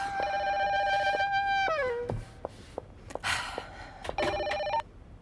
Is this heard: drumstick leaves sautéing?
no